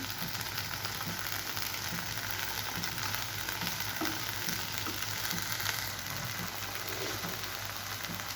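Cluster beans fry in a pan with a continuous, moderately loud sizzle, while a utensil stirs them in soft, irregular scrapes and knocks; an electrical hum runs steadily underneath.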